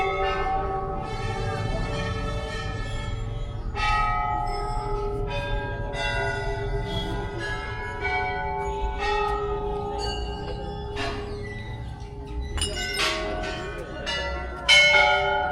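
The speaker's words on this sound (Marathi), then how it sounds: "ते तर घंट्या सगळ्या इकडं बांधलेल्या आहेतच आहेत." Many bells hung at the Golu Devta temple in Uttarakhand ring repeatedly, bright metallic strikes overlapping with long resonant tails, steady and fairly close with faint talk in the background.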